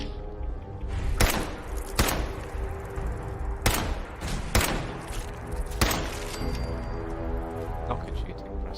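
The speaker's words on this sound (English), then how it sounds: "Not good shooting, Preston." Gunfire in the Fallout 4 video game: several sharp shots ring out at irregular intervals over a steady bed of game ambience, loud and close.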